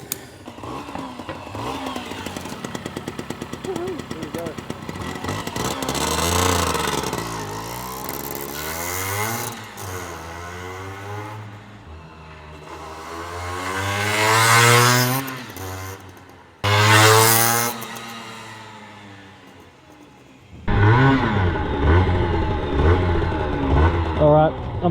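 A Honda Raccoon 50cc motorbike runs close by, its small engine revving up and dropping back several times as gears are shifted roughly, then settling into a steady high drone; a voice speaks over parts of it.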